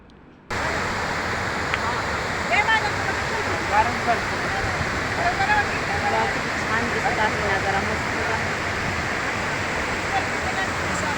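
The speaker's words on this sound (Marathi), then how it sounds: "तर बघा खूप छान असा तर पाण्याचं वाहतं पाणी आहे" Water flowing steadily over a village check dam beside farmland, a loud, continuous rushing roar close by that fills the scene, with a voice faintly talking beneath it.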